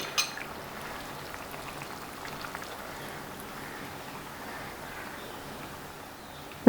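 First coconut milk is poured into a simmering fish molee in a pan, a soft continuous liquid trickle and bubbling that fades and ends with a short louder clatter.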